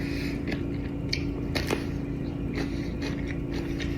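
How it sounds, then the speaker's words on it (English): A person eats Duke's sausage, carrots and peppers dipped in plain Greek yogurt, chewing and smacking wetly right at the mic. Soft breathing and a low background hum run under the steady, irregular bites. "you can hear her breathing, but her chewing and smacking"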